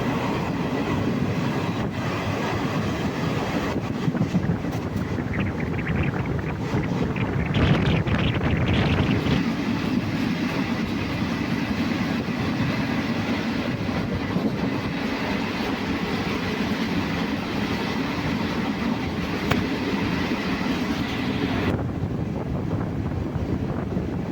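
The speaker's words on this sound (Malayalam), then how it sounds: "നമ്മൾ യാത്ര ചെയ്യുന്ന ഈ ട്രെയിൻ" The KSR Bengaluru InterCity SF Express rolls along on the Ernakulam to Coimbatore route, a steady loud rumble of wheels and carriage noise with wind buffeting the microphone throughout and no voices.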